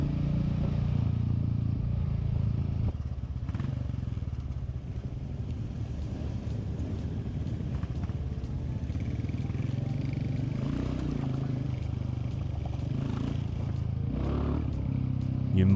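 A Royal Enfield Classic 350 motorcycle rumbles along gravel roads past rice fields in Indonesia, its steady low engine drone mixed with crunching and rattling from the loose surface throughout.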